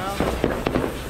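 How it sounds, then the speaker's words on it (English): Several sharp bursts of fireworks crackle and pop in quick succession, with people talking over the noise. "Look at them fireworks."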